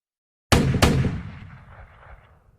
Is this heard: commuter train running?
no